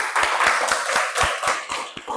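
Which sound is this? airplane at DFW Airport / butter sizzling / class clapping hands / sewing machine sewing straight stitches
class clapping hands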